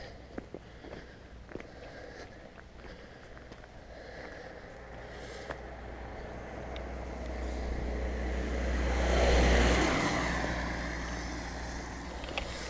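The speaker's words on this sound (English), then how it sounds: "Another car coming." On a quiet country road in the Clwydian mountain range, a car approaches from afar, its tyre and engine rumble swelling to a peak as it passes close by, then fading, with wind noise and a sniff.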